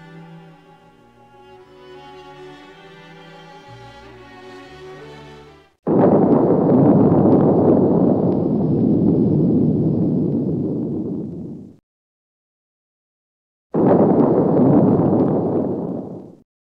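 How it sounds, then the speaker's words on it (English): Soft music gives way to a loud, sustained roaring blast of an explosion ripping through factories, rumbling for several seconds, then a pause and a second roaring burst. "The explosion ripped through the factories, fires destroying the last remnants of the once great marble hose."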